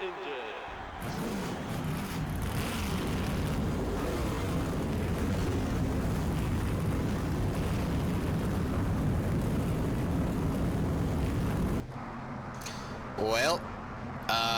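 In the NASCAR Thunder 2004 video game, a field of stock car engines fires up into a dense, thunderous roar that holds for about eleven seconds before cutting to quieter game sounds.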